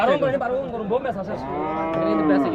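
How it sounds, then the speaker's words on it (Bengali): Cows moo at a Bangladeshi cattle market where small local cattle are sold for Qurbani, one long, loud, close bellow rising over the busy market din. "এই গরুগুলা দেখেন সবগুলো ছোট সাইজের গরু দেশি গরু"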